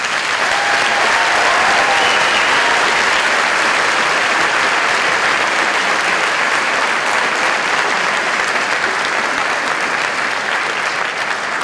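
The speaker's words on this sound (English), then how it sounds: "Will the recipients of the Townsend Harris Honor Certificate please rise so we can honor you with a round of applause." Sustained audience applause at a 2014 high school commencement ceremony honoring certificate recipients, loud, dense and steady from start to finish with no voices on top.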